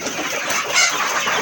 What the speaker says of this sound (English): Welcome once again to our chicken coop.